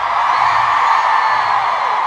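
Large concert crowd at a show in Münster screams on request, a dense sustained roar of many high voices, loud and unbroken for the full stretch.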